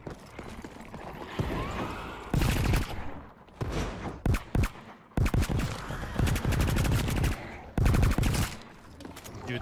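Bursts of very rapid gunfire in the video game The Cycle: Frontier, loud automatic volleys separated by short pauses, with faint talk between bursts.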